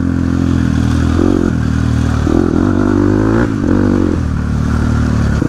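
A Crossfire RM 250 Race Edition dirt bike engine runs loud and close, its steady drone rising and falling a few times as the throttle is blipped.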